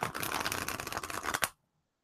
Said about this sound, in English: that's a nice shuffle. I really like how it shuffles.